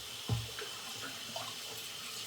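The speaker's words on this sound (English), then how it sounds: "Okay, I'm gonna rinse that up." Tap water runs steadily into a sink while something is rinsed during a shave, a continuous close hiss with a splashing burst at the start and small bubbling changes.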